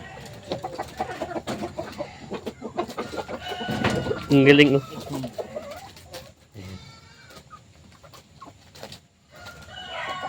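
Farm chickens clucking with a rooster crowing at a rainy Philippine farm, lively and fairly close, while people talk over the birds.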